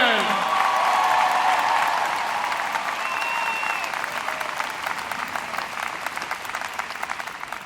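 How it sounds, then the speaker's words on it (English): A large commencement crowd at USC applauds the valedictorian with sustained, dense clapping that starts full and slowly thins over several seconds. Faint cheering and voices sit underneath. "A round of applause for our valedictorian."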